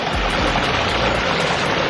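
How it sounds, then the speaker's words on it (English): A backyard koi pond waterfall spills over rocks in a constant, close rushing wash of water, steady and loud throughout. "Comes on down, and just every one of these waterfalls sounds different."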